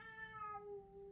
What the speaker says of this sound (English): Ooh, sing it, kitty.